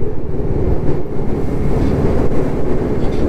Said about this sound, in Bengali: সামনে দেখো একটা রেলের বগি যাচ্ছে